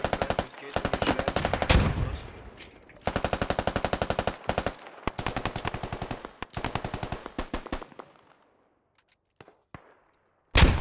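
Automatic gunfire rattles in the Squad combat game, several rapid bursts of sharp shots in tight rhythm, loud and close, then sparser single cracks trailing off before a final blast.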